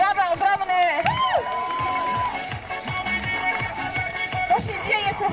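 Crowd at a run event cheering and whooping, with a sustained high-pitched whistle or shout rising and falling over clapping and babble, fairly loud and continuous, with voices mixed through.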